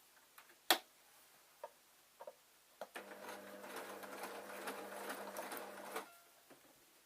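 A sewing machine stitches through a thick denim skirt seam, starting with a few scattered ticks and clicks before a steady, close running whir of about three seconds that then stops, followed by a couple of faint clicks.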